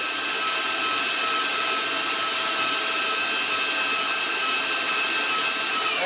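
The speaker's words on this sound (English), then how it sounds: "Get my eggs mixed in here with the butter." An electric mixer whirs steadily at high speed, beating eggs into butter for cherry chocolate chip cookie dough, loud and close without a break and with no talking.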